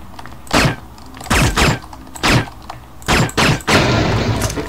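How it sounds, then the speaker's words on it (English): Explosions and gunfire from the shooter game Red Faction come as a series of loud, booming blasts roughly every half second to a second, each with a sharp attack and rumbling decay, without any talking. "Explosions!"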